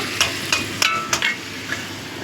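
Tomatoes sautéing in a pan for dal shukto, a soft sizzle broken by about six sharp scrapes and taps of a spatula against the pan at an uneven pace, without any talk.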